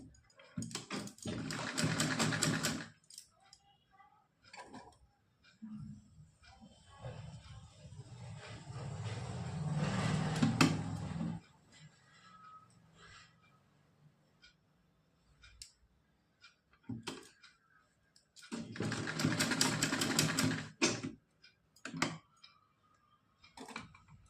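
A sewing machine stitches a small cotton doll dress in three whirring runs, each lasting a few seconds, separated by quiet pauses filled with light handling clicks.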